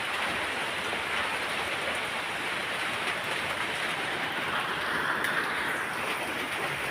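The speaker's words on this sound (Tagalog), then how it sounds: "Ang lakas ng ulan mga idol." Heavy rain pours in a steady, dense roar over the full stretch, continuous and loud with no pauses or voices on top.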